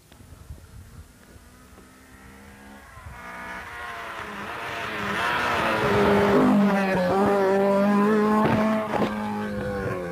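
A rally car approaches on a stage at Millstreet, its engine rising from far to near and growing louder as it passes. A tyre squeal or engine whine stands out near the end.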